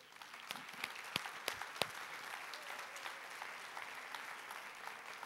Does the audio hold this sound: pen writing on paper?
no